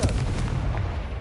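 A Confringo fire spell explodes in Hogwarts Legacy, a short, heavy booming blast with a rumbling low end that stays loud for about a second.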